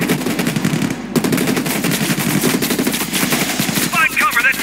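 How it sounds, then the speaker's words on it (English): Sustained, loud turret machine gun fire in the Call of Duty Black Ops Cold War campaign, rapid continuous bursts with a brief break near the start and layered battlefield noise throughout. "Find cover, that turret will tear you up!"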